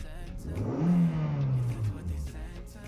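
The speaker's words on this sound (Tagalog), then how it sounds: "pag tinapakan po natin ng bigla ang gas, ito yung ating RPM" A Suzuki Ertiga engine revs sharply from idle on sudden throttle, the pitch jumping up quickly and then slowly sliding back down, heard up close and alone.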